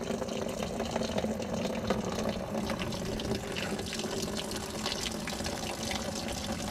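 Steady rushing of rainwater pouring into and filling a small washing machine, a continuous splashing flow with faint gurgles, no talking.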